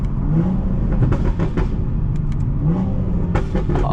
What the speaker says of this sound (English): Oh, them downshifts is beautiful, man.